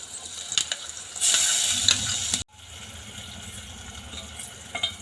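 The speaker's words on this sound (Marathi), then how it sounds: "आता आपण त्यामध्ये आलं लसूण पेस्ट टाकून घेऊया" Ginger-garlic paste hits a pan of frying onion, tomato and asafoetida, and a loud burst of sizzling follows, with stirring scrapes. It cuts off abruptly, then gives way to a quieter sizzle and clatter.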